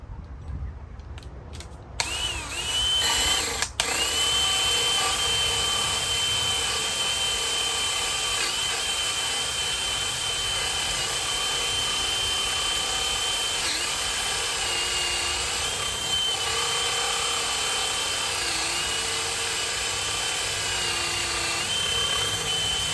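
A power drill bores through wood, whining steadily for a long stretch, a sustained high mechanical drone with brief pauses at the start, close and loud.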